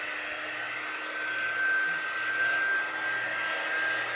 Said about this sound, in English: I'm just using my heat gun for a second.